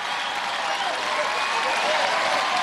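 Studio audience at a 1998 UK Gladiators heat bursting into sustained, loud, even applause that fills the whole stretch without pause, with crowd voices mixed in.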